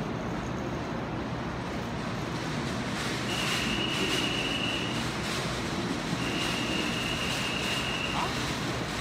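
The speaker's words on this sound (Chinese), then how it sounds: "子弹列车。" A high-speed rail bullet train pulls into Taipei station with a steady, loud rumble of wheels, two thin squeals along the track, and muffled voices in the background.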